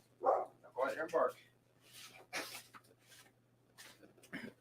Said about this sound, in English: she's not going to stop barking till I let her out